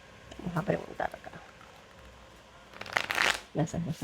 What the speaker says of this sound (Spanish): Vamos a barajar bien.